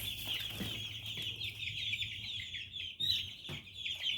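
Baby chicks cheep and chirp steadily as bedding is spread over them in their brooder, a continuous high peeping chorus with a brief louder flurry near the end.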